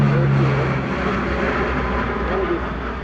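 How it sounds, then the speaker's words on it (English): Lockheed P-3 Orion four-engine turboprop at an airshow, a loud, steady engine drone with a low hum that stays constant across the moment, with a voice briefly audible over it. "The most modern aircraft in the HARS fleet is this P-3 Orion"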